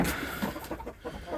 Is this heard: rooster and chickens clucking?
yes